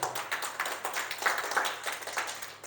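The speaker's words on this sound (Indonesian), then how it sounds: "Tepuk tangan untuk Tuhan aja" Church congregation clapping hands in worship, a soft, fairly distant patter of claps running evenly for a few seconds with no talking over it.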